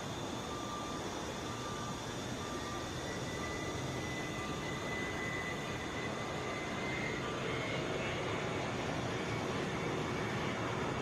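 Southwest Boeing 737 arriving at Atlanta International Airport, a steady distant jet roar with a broad rumble that holds evenly and grows slightly louder, no voices over it.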